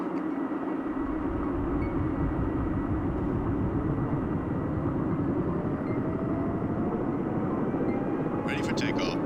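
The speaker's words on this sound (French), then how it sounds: "Démarrage des turbines, contrôle du vent." Helicopter turbines spool up in the Search and Rescue 4 video game, a loud, steady broadband whine and rumble that holds throughout, with a faint rising tone and someone talking over it.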